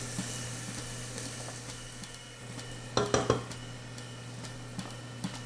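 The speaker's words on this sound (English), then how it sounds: "now that the oil is heated up, we're going to add 1 cup of onions. And you get to hear that sizzle." A cup of onions sautés in heated oil for a pumpkin curry, giving a steady, close sizzle with a brief cluster of pan and utensil clatters partway through.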